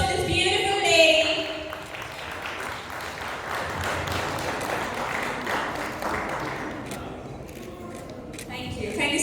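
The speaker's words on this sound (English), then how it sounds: "A big round of applause to this beautiful lady." An audience applauds a woman at an Eid celebration in a social centre in Sharjah, steady mid-level clapping that carries on for several seconds with voices mixed in.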